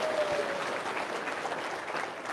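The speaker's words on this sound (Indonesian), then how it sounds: "Tepuk tangan dong." Audience clapping fills a short stretch steadily and at moderate volume, with no speech over it.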